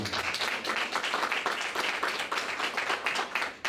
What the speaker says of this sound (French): Mme Dubois, notre directrice générale, qui, oui, vous pouvez l'applaudir.